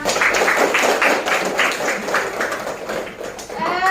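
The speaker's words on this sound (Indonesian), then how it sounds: "tepuk tangan untuk kita semua" A classroom of students claps together for a few seconds. The beats are rhythmic and near, with a faint voice at the end.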